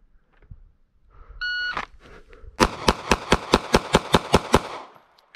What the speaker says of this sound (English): we'll start on the beep